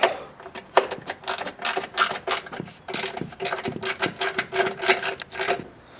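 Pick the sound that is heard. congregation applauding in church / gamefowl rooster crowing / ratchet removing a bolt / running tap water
ratchet removing a bolt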